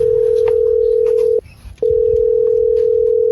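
A telephone ringback tone purrs as a steady, loud single pitch, cutting out briefly before resuming, while a call is placed to a friend's house; no one speaks over it.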